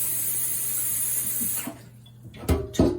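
Tap water runs steadily into a cooking pot being filled to boil for noodles in a home kitchen, a continuous rushing splash that cuts off partway, followed by a couple of soft clunks.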